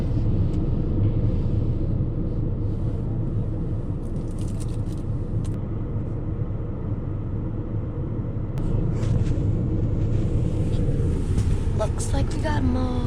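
Steady low road rumble and engine drone from inside a moving car, constant and fairly loud throughout, with a few faint higher rattles and ticks on top and no talking.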